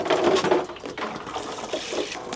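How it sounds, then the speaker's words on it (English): Water splashes and pours onto potted tomato plants, a brief, close gush of running water with a fluttering, uneven flow. "I'm just going to water these."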